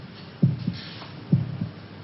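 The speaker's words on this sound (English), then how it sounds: "Can you hear your heart beating?" Two soft, low heartbeats thump in a lub-dub rhythm over faint background hiss, muffled and close.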